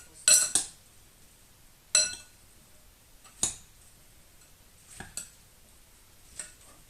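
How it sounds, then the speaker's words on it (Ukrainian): Light clinks of two spoons tapping a dish while mixing a salad, at slow, uneven intervals, growing softer toward the end, with quiet in between. "Перемішали так от двома ложками."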